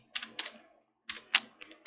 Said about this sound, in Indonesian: Coba saya ngetik ya.